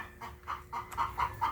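Rhode Island chickens kept for laying brown eggs cluck in a steady series of short, rising calls, fairly close and moderately loud, with no talking over them.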